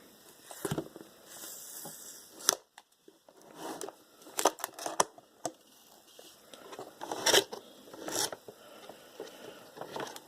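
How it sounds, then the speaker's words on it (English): A cardboard box for an Enermax ETS-T40 CPU cooler is opened, with irregular close rustling, scraping and tearing bursts separated by quiet gaps, alone without talk. "So let's get to opening the box."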